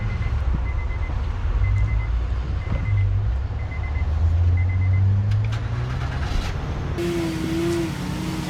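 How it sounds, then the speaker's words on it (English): A GMC truck starts and runs with a steady engine rumble, while intermittent reversing beeps sound throughout and a brief higher whine rises near the end, loud and close with no talking. "we're gonna fire this thing up and drive it off"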